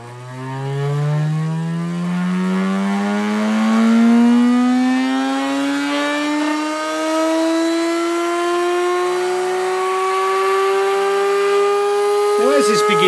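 A homemade pulse motor spins up, its whine sweeping steadily upward in pitch as it accelerates, loud and close with a buzzy, harmonic-rich tone that climbs across the whole stretch before a brief clatter at the end.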